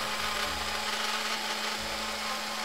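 A Mini 4WD tire is shaved down with a powered tool, producing a continuous whirring grind with a steady motor hum, close and constant, rising and falling slightly in intensity without speech.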